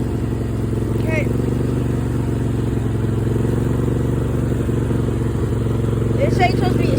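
The engine of a riding lawnmower drones low and steady while the mower is driven, a close, continuous rumble with faint rattles and no clear talk over it.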